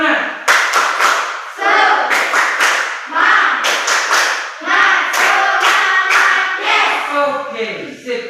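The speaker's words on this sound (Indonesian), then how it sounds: "Tepuk semangat." A classroom of students performs a rhythmic spirit clap, bursts of hand claps in a patterned beat, loud and close, with voices chanting or calling along between the clap groups.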